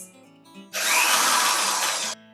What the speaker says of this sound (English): Now you need to pre-drill your holes.